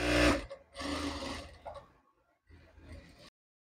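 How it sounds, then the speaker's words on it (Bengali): A sewing machine stitches the leg of bell-bottom pants in short close bursts of whirring, stopping and restarting a few times before falling silent. "একইভাবে আরো একটি পা সেলাই করে নেব।"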